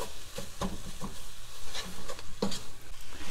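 Red onion sauce with brown sugar is stirred in a pan, giving soft, irregular scraping and gentle bubbling taps, close and fairly quiet, with no voices.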